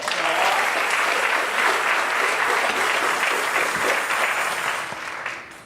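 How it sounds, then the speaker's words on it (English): Loud, sustained crowd applause for the Mohawk hunters at a community celebration for Big Chief Tyrone Casby, a dense, even wash of clapping that fades slightly at the end. "Give them a big round of applause"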